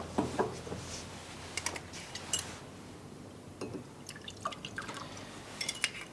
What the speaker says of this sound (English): Let me pour you a drink.